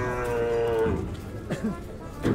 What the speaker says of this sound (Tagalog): Loading time ng ating mga nabiling kalabaw.